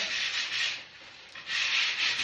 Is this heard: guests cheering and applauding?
no